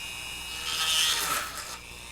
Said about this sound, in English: I can put that bit into my Dremel here